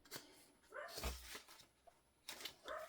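A dog barks a few times at a distance, faint and sharp, with quiet room noise and a thump between the barks.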